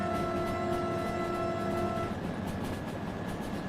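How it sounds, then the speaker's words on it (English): A train horn sounds steadily for about two seconds in the Derail Valley simulation, layered over a constant rumbling of rolling stock that continues after the horn stops. "Can I honk the horn?"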